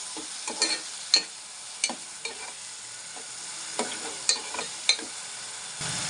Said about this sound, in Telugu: ఆనియన్స్ చిన్నగా చాప్ చేసుకున్నానండి, వేస్తున్నాను